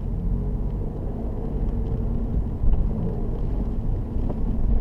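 Steady low engine rumble and road noise from a car driving through South Ockendon during a driving lesson, continuous and fairly loud with wind buffeting, no talk.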